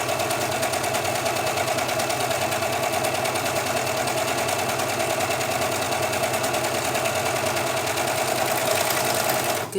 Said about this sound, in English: Good thing about having a serger sewing machine, you can use the serger stitch for hem